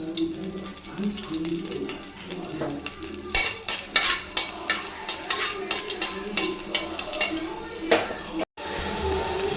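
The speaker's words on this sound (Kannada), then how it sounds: "ಈಗ ಒಗ್ಗರಣೆಗೆ ಬೆಳ್ಳುಳ್ಳಿ ಹಾಕೋತಿದ್ದೀನಿ" Garlic dropped into a pot of hot oil for tempering sizzles steadily while a spoon stirs with regular scraping knocks against the metal, close and fairly loud, with a short dropout near the end.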